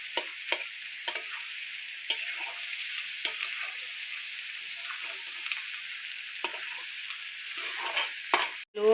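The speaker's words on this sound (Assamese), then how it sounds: "মাংস বহাই দিলোঁ দেখিছেনে ধুনীয়াকৈ লৰাই থাকিব" Duck meat frying in a pan, cooked with ash gourd: a steady, close hiss of sizzling oil runs throughout, broken by regular clinks and scrapes from a utensil stirring the meat. No one speaks.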